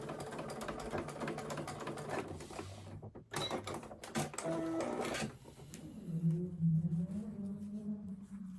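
A sewing machine runs in rapid mechanical bursts while reverse stitching a bound seam with bias binding, close and fairly loud, with short pauses and handling noises between runs.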